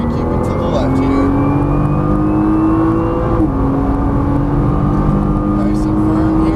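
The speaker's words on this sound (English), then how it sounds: "Squeeze that throttle down the straightaway." A Nissan GT-R accelerates hard down a race track straight, its engine note climbing steadily in pitch with a brief dip at a gear change, loud and close from inside the car while an instructor talks over it.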